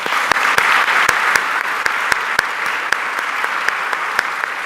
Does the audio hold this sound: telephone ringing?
no